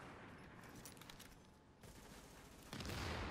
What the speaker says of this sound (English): there's someone else shooting at me now